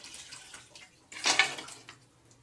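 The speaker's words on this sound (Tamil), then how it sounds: "நம்ம வந்து 3 கப் தண்ணி ஆட் பண்ணியிருக்கோம்மா." Water splashes into a cooking pot of mutton and rice for biryani in a short, bright pour. A louder burst comes near the middle, then the flow trickles off, faint and close, with no talking.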